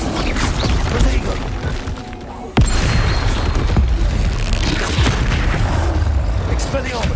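In Hogwarts Legacy, an Incendio fire spell goes off with a sudden loud whoosh and boom, set against continuous dense game noise and combat clatter.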